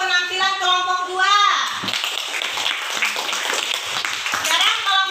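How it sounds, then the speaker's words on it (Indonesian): Children in a classroom break into a burst of clapping for a group's Quran recitation of Surah Al-Ma'un, with young voices heard just before and just after the applause. "beri tepuk tangan untuk penampilan kelompok dua"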